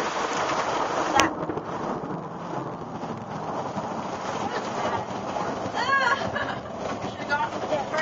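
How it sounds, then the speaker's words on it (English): Steady rain pours down with a low rumble of thunder, while voices chatter faintly underneath. "we just got to wait for this thunder shower to pass on through."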